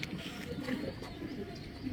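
A young racing pigeon, about to be released, gives faint, soft coos close by in a quiet outdoor setting.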